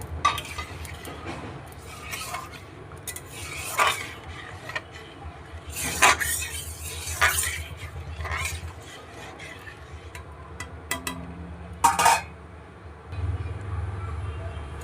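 Whole garam masala of bay leaves, clove, cardamom and cinnamon tossed into a pan for semolina suji, with steady scraping and rasping as a spoon stirs them, punctuated by a few sharper clatters of utensil against metal.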